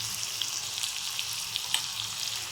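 Onion sizzling as it fries in hot oil seasoned with asafoetida and turmeric, for a roasted eggplant bharta: a steady bright crackle with small pops throughout, close and moderately loud.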